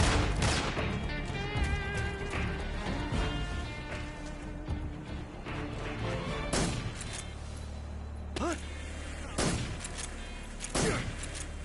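Gunfire in Metal Gear Solid 3: Snake Eater, dense rapid shots at the start giving way to scattered single loud cracks and thuds, with a voice talking briefly in the mix.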